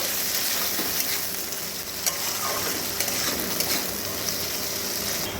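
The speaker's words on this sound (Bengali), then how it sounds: "পেঁয়াজ কলিটাকে এর মধ্যে দিয়ে দিলাম দিয়ে আবার ভালো করে এর সঙ্গে মিশিয়ে ভেজে নেব" Spring onions fry in a wok for chowmein, giving a loud continuous sizzle with occasional stirring scrapes and no talk.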